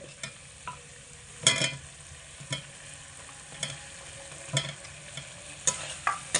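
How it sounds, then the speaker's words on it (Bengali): Fried potatoes are stirred into a spice masala over medium heat, a soft low sizzle punctuated by irregular spatula scrapes and clatters against the pan, close by and unaccompanied by voices. "মশলার মধ্যে আলু দিয়ে মোটামুটি দুই থেকে তিন মিনিট মতো মিডিয়াম আঁচে রেখে কষিয়ে নিচ্ছি"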